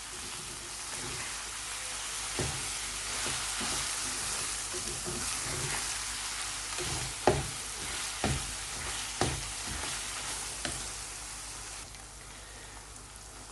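Minced lamb keema with masala cooking on low heat, giving a constant close sizzle and crackle broken by several sharp knocks and scrapes of a spoon stirring in the pan.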